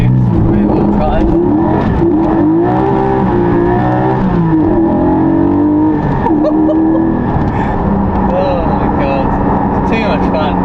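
A rear-wheel-drive Porsche accelerates hard, its engine note climbing and revving loudly from inside the car throughout, with a voice talking over it.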